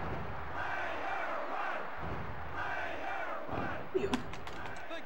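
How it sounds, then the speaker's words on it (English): Video game crowd in WWF War Zone chanting and roaring steadily throughout an arena wrestling match, a dense sustained din with a few sharp thuds near the end. "The crowd is chanting your name."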